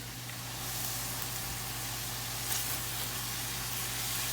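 Ground meat browning for a lasagna sizzles in a pan as a steady, broad hiss at moderate level with a low hum underneath, unbroken and without talk.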